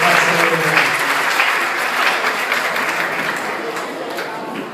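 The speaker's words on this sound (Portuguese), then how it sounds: "Vamos aplaudir o Senhor para a vida dele" Dense, sustained applause from a church audience welcoming a guest, a loud, even roar of many hands clapping that tapers slightly toward the end, with voices mixed in.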